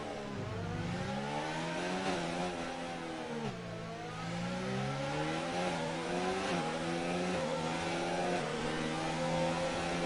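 Racing cars in a racing game at the Monaco street circuit, with a Williams and a Mercedes battling: steady whining engine tones rising and falling through gear changes, continuous and fairly close, with no one talking.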